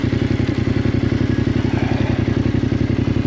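Motorcycle ridden on a dirt road, its mid-pitched engine holding a steady, loud, pulsing drone close by, with faint clattering and thumps from the rough surface throughout.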